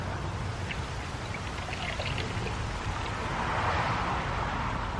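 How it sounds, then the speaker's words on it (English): Evo shampoo poured into a bucket holding about a gallon of water while detailing a 2016 Harley-Davidson Street Glide Special, a steady close splashing, gurgling pour that swells slightly near the end, with no talk. "Put an ounce of that stuff in the bucket."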